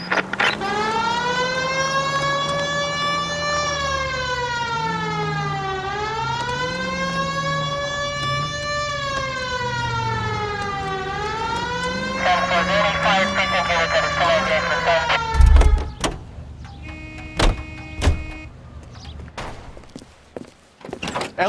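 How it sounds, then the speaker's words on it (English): Police car siren from the L.A. Noire video game wailing loudly and continuously in rising and falling sweeps, with engine rumble beneath, then cutting off into a few sharp door-like thumps and slams. "Hit the siren."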